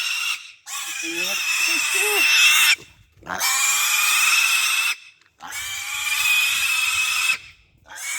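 Piglets being sold at a farm squeal in three long, loud, shrill bursts separated by brief pauses, close to the microphone.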